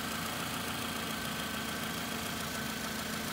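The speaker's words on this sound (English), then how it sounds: "Here's an engine, 4-cylinders." The four-cylinder engine of a 2006 Toyota Camry LE idles steadily up close, a constant droning hum with a faint rhythmic knock and no other sounds.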